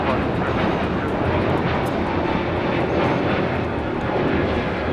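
A Delta Boeing 767-300ER departing LAX for Mexico City from runway 25 right roars loudly and steadily, a dense, close engine rumble that sustains with no pause and no voices.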